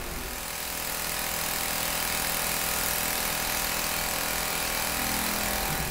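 A milling machine fly cutter facing aluminum at 2500 RPM gives a dense, harsh grinding roar that swells in over the first second, then holds steady and loud.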